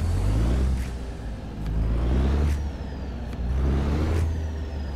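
A Caterpillar B model truck engine in American Truck Simulator gives a deep, steady diesel rumble that swells and eases in waves as gears change, with a sharp air-brake hiss between pulls.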